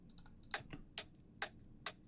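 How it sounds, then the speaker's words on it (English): Sharp, bright clock ticks repeat at an even pace, with softer tocks between them, close and fairly quiet against a low background hum. "And a clock sample."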